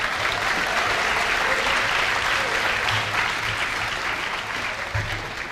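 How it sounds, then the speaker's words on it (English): A convocation audience at John Carroll University gives a round of applause for the pianist and accompanist, a sustained, even wash of many hands clapping from start to finish. "Let's give them a round of applause."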